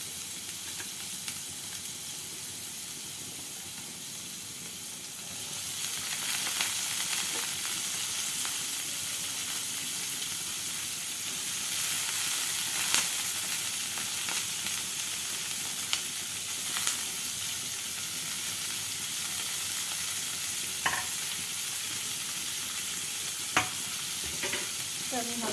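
Sweet corn and chopped carrot frying lightly in a pan for sweet corn soup, giving a steady close sizzle and hiss with occasional stirring scrapes throughout, no talking.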